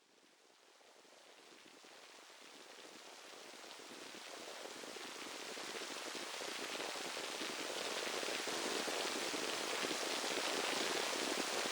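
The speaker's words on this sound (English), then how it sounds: "You're going to hear the rain come in." Steady rain sound designed for relaxation swells in gradually from quiet to a dense, even hiss of falling drops, continuous and enveloping with no voices.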